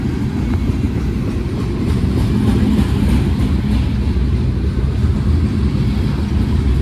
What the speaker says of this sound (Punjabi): ਇਹ ਕਾਫੀ ਲੰਬੀ ਟ੍ਰੇਨ ਆ